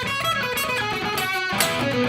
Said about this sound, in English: So altogether the solo should sound something like this.